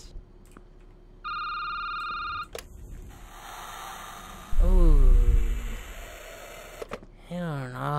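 A phone rings in a security booth during a horror game: a steady electronic ring tone holds for about a second, then louder rumbling and warbling tones follow alongside talk.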